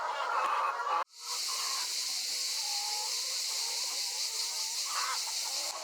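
Hens in a henhouse give soft, scattered clucks over a constant hissing background, faint and somewhat distant, after a brief cut near the start, with no voices.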